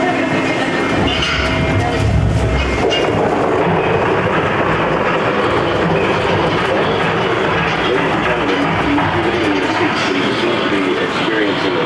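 Rumbling ride on a subway-style train car in the Universal Studios Florida Earthquake attraction, with a steady loud rail rumble throughout and a recorded announcement voice speaking over it.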